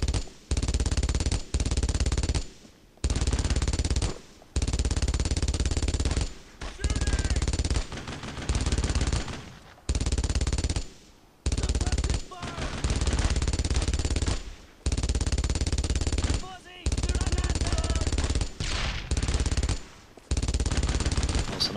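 Long, loud bursts of machine-gun fire from the World War II video game Brothers in Arms: Road to Hill 30 rattle rapidly, broken by short pauses between volleys.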